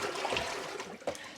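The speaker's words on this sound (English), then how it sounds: "So let's give them a wash. This is just plain tap water at the moment." Tap water runs and splashes over hand-dyed cotton trousers being rinsed, a steady close trickle with a brief splash near the end.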